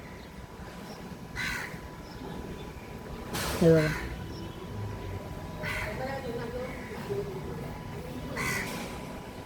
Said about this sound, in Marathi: इथे बघा कावळा भाव आपला ओरडायला लागला